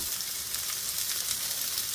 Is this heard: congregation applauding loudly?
no